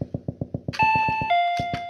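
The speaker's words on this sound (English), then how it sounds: "Doorbell!" Two-tone doorbell chime in the video game Paranoiac rings out clearly after a series of soft rhythmic footsteps, the tones sustaining and ringing again near the end.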